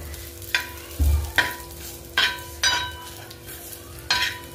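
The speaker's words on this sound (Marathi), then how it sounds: "धने छान असे थोडेसे लालसर होईपर्यंत भाजायचे" Coriander seeds and spices dry-roasting in a pan for a drumstick curry masala, with a soft continuous crackle punctuated by about six distinct scraping stirs at irregular intervals, close and clear without speech.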